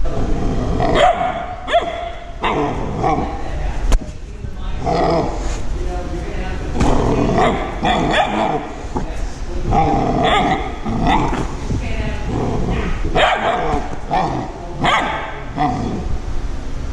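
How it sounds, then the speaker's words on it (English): A seven-week-old puppy inside a shop gives repeated barks and growly yaps in uneven bursts, close and loud, with other sounds mixed in throughout. "I think he's gonna be a good shop guard dog."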